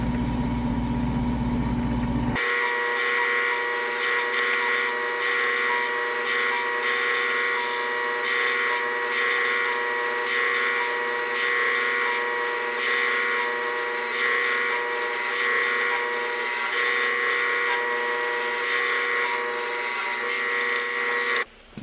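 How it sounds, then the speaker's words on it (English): A machine drills a deep hole into a metal workpiece for a milling attachment build, a loud, steady whirring drone that holds at an even pitch for about twenty seconds, with no talking. "It's a bit of a deep hole, so you got to kind of peck at it and let it clear the chips"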